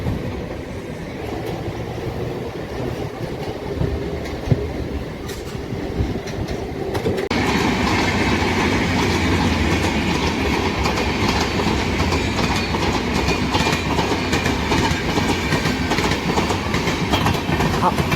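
A Howrah to Belur Math local train runs steadily with a loud continuous rumble and rhythmic clickety-clack of wheels on rails, the noise swelling and staying dense after a few seconds, heard from inside the carriage.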